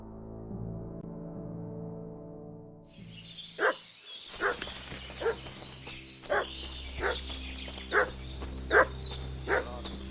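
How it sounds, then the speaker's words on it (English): A dog in the Kingdom Come: Deliverance II video game barks repeatedly in irregular, moderately distant yaps over a low game ambience. "What's that dog making such a fuss about?"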